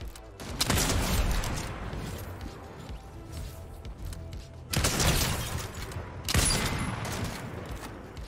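Gunfire in the video game Fortnite sounds as dense, rattling bursts of shots with crashing impacts, loud and close, with several sharp onsets across the stretch.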